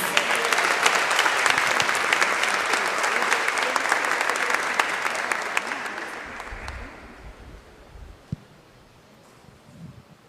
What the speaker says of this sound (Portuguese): Você pode receber a missionária com aplauso a Jesus?